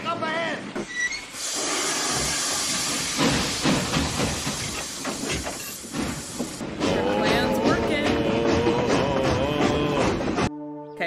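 Steam locomotive hissing in a scene from the 1990 film Back to the Future Part III, with a broad steady hiss running under loud music and people talking.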